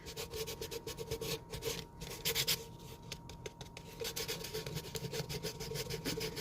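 A fingertip rubbing paint off the surface of a metal can, giving a continuous dry scratching and rasping friction with short bursts and pauses, close and fairly loud, no talk.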